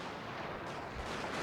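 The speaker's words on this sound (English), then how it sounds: "maybe it is because of suppression fire" Naval artillery suppression fire in Shogun 2: Fall of the Samurai: a brief, dense roar of distant booming gunfire, steady and muffled, with no talk.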